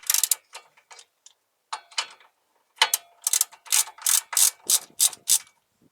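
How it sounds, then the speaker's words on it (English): Ratchet with an 18mm socket working a bolt loose on a Vauxhall Corsa, giving a few short clicking bursts, then a steady run of rapid, loud pawl clicks in regular strokes, close up with no talking. "To take this bolt off, need a 18mm."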